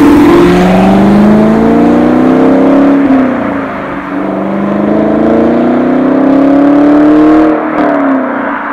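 A 2018 Chevrolet Camaro SS 1LE V8 engine revs loudly and steadily, its pitch rising and falling in smooth sweeps with a brief dip near the middle, with no voices.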